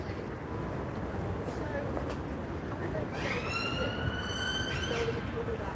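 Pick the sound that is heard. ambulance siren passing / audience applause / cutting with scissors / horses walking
ambulance siren passing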